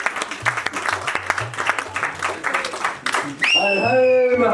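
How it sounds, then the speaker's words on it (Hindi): Audience clapping at a medical college alumni meet in Jhansi, a dense crowd applause running throughout under a voice, with a sung or chanted tonal passage rising near the end. "जोर से तालियां बजाइए भाई"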